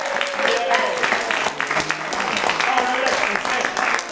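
Audience at a live script reading in Los Angeles claps for contest finalists, scattered applause running throughout alongside voices talking over it.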